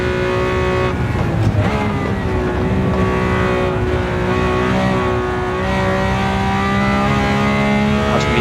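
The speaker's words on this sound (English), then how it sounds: "Listen to that V12 screaming, it's incredible." A Lamborghini Countach 500S Walter Wolf Special's V12 screams at full throttle flat out along a racing circuit straight, a loud, sustained high-pitched engine wail with steadily rising harmonics.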